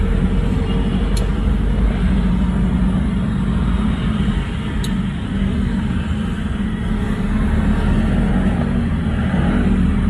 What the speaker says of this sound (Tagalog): Kantok ang traffic.